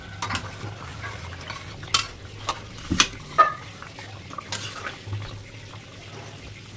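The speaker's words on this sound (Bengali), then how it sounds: "ঝোলটা একটু ফুটবে, তারপরে দেবো" Chili chicken gravy cooking in a pot while being stirred, with a soft bubbling sizzle beneath intermittent taps and scrapes of a spoon against the pot.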